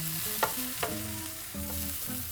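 Courgette fritters frying in a skillet, giving a quiet steady sizzle with a couple of brief sharper spatters, close up and without talk.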